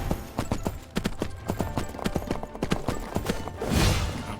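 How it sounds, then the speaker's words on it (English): Horse hooves clip-clop at a steady riding rhythm in the Three Kingdoms Zhao Yun video game, with repeated sharp hoof strikes over a low backdrop before a brief whoosh of noise near the end. "Let's get back on our horse."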